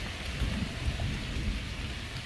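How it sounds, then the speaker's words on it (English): A thunderstorm with light rain: low thunder rumbles beneath a constant hiss of rain falling outdoors, with no voices. "there's the thunder and some light rain again"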